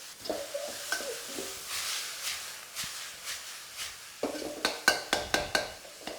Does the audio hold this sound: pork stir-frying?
yes